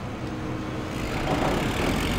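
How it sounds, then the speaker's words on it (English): Engine of a stump grinder in the Farming Simulator 15 video game, a steady low rumbling drone that grows slightly louder toward the end, with no talking. "I'm gonna get my stump grinder over here."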